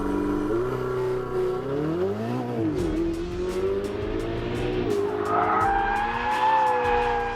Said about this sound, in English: The turbocharged Ferrari V8 is a dream.